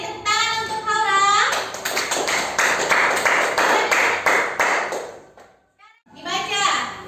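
Children in a classroom clap their hands together in a quick, rhythmic burst lasting a few seconds, bracketed by a child's and a teacher's voices.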